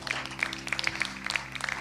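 A church congregation breaks into brief, scattered applause, a quick run of sharp hand claps over a low hum, with no voices.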